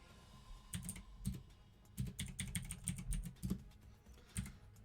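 Rapid bursts of keystrokes on a computer keyboard with a troublesome E key, clattering in irregular clusters of several quick presses separated by short pauses, close and fairly loud with no talking.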